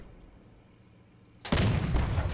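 Cannon fire in a video game on a test server: after a quiet hum, a loud burst of shots and booms erupts and rumbles on at close range.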